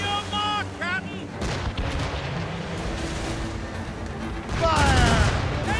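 Cannon and gunfire crash out in a naval battle in Assassin's Creed Rogue, with repeated loud booms and volleys over rumbling battle noise and shouting crew voices.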